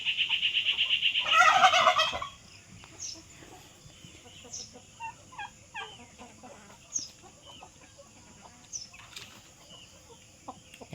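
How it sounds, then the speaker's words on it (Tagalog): Backyard poultry at a home: a loud burst of gobbling and clucking for the first two seconds, then scattered chicken clucks and calls continuing more faintly and intermittently in the background. "Daming manok."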